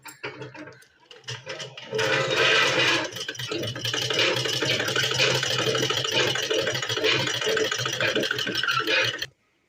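A sewing machine stitches a seam on cloth, a fast, even mechanical rattle that starts after a few faint clicks and runs steadily before stopping abruptly.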